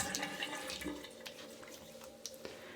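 A Merkur 33C safety razor is rinsed under running water, giving a close, moderately quiet splashing flow with a few small clinks and drips.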